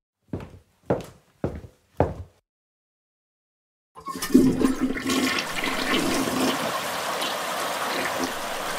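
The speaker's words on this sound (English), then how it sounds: "Now I'm going to flush the toilet." A household toilet flushes with a loud rushing gush of water that swirls and drains steadily for several seconds, preceded by four short knocking thunks and a brief pause.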